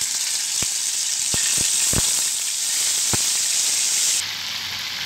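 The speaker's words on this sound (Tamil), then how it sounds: "எண்ணெய் நல்லா சூடாயிடுச்சு, இதில் நம்ம ஊற வச்சுருக்கிற சிக்கனை சேர்த்துடலாம்." Marinated chicken frying in hot oil for butter chicken: a loud, steady high sizzle throughout, broken by a few sharp pops and crackles, settling slightly quieter near the end.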